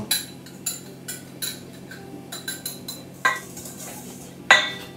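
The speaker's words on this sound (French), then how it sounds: "on va mélanger dans un premier temps les 125 g de poudre de noisette et les 125 g de sucre glace" Hazelnut powder and icing sugar being stirred in a bowl, a utensil clinking and scraping against the sides in repeated bright knocks at an uneven rhythm, close and fairly clear.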